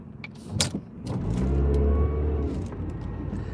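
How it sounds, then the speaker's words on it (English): A car passes close by, its engine rumble swelling loudly and then easing off, with a few short clicks and knocks before it arrives. "There's a lot of cars here."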